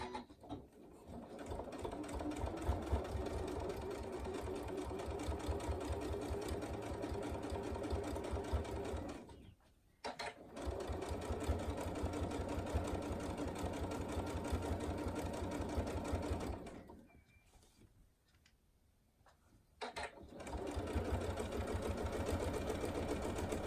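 A sewing machine top stitches a fabric tool wrap in long steady runs, loud and close, with two short pauses where the stitching stops before resuming.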